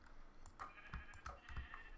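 Sheep in the video game Minecraft bleat in short, quiet cries, several brief calls scattered over a faint background with light clicks like keyboard typing.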